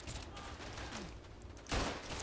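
Gunfire in the WWI shooter Verdun: a loud broadband gunshot blast near the end, over a steady background of distant battlefield noise and faint earlier reports.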